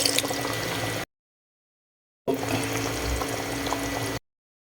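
Water poured into a pan while cooking Thai-style chicken: two close bursts of splashing, gurgling liquid, each lasting one to two seconds, separated by a short pause.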